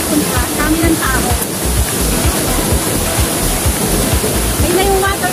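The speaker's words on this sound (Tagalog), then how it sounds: "Ayun na yung waterfall." Tsuen Wan waterfall in Hong Kong roaring as a loud, steady rush of falling water close by, with voices of people chatting faintly over it.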